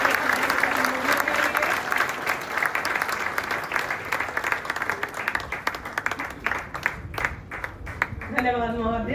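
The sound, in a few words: applause at a railway retirement ceremony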